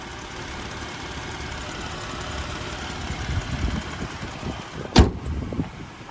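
The 3.6 liter V6 of a 2021 Jeep Grand Cherokee L idles with a low, even hum, heard close and moderately loud, with a short sharp click partway through.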